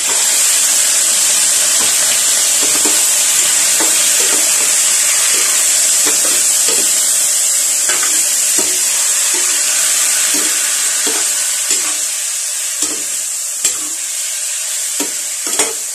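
Chicken pieces sautéing in a hot pan for Filipino tinola, a steady close sizzle and hiss with irregular stirring clatter throughout, easing slightly toward the end.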